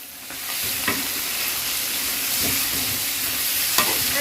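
Tomatoes sautéing with chicken curry in a pan, a steady sizzle with stirring scrapes and occasional utensil knocks, close and continuous.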